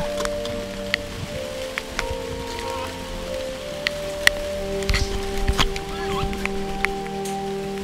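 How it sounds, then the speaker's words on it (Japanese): Rain patters on a fishing boat out bass fishing: faint scattered drop ticks over a steady low hum, with a few louder knocks midway. "ちょっと雨降ったんでねもうこれは逃げるしかないです"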